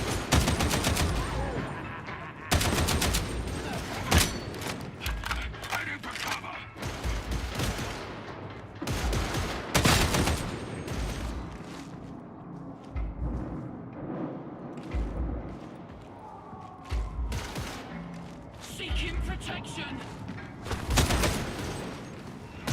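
Rapid gunfire bursts and booming shots from the Warhammer 40,000: Darktide video game, loud and repeated in clustered volleys with brief pauses, no talking over them.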